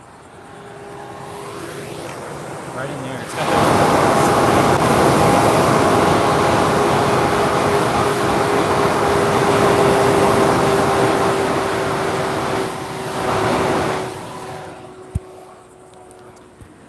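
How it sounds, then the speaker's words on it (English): A cooling intake fan at an electric car charging station roars loudly and steadily like rushing wind, rising abruptly after a quieter stretch with faint voices, holding for about ten seconds, then winding down with a brief swell and a click. "right now the intake fan is cranking, so you guys can hear it"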